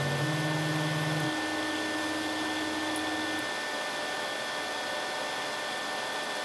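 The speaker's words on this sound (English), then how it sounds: "So here we are running for 120 millimeter per minute, and it perfectly cuts the foam." A RigidBot 3D printer with a 405nm laser cutter attachment cuts through foam at a slow feed, making a steady, close, fan-like whir with faint motor tones that step down partway through.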